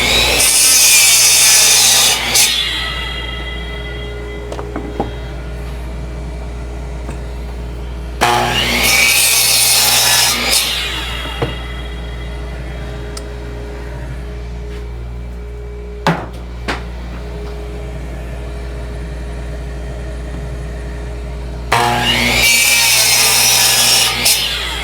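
Saw cutting through wood for making goat toys, in three loud bursts of rasping strokes at about 0–3 s, 8–11 s and 22–25 s, separated by quieter stretches of faint knocks and shuffling.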